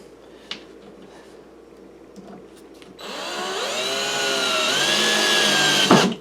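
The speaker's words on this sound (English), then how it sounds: "it actually might be a little bit faster to use the drill" A power drill drives a screw into a drawer of a Harbor Freight Windsor Design workbench, first with faint taps and handling, then a loud, rising whine for about three seconds that ends in a sharp clunk.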